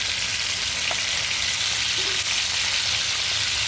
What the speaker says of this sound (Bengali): এখন আমি ভেজে নিচ্ছি পোয়া মাছ।